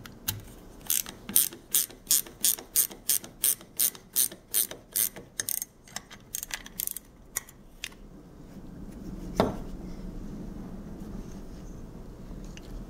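Ratchet tightening a nut on a G63T throttle body shaft, a close run of about fifteen even clicking strokes, slowing toward the end, then a light metallic handling knock.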